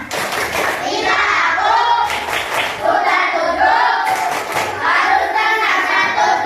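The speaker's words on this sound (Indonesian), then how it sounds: "Ayo coba tepuk tangan" Students in an Indonesian classroom clap their hands in rhythmic bursts, with children's voices and shouts over the claps.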